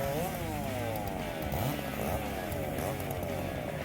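A Stihl MS660 and a Husqvarna 395XP, two big felling chainsaws, running hard together in a cutting race, a loud continuous buzzing roar with engine pitch rising and falling as they work through wood.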